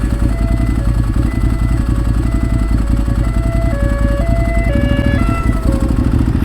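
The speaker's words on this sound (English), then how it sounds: "there is a police car coming towards me" A two-tone police car siren wails loudly and repeatedly over a rumbling engine, the pitch of each tone shifting as the car nears.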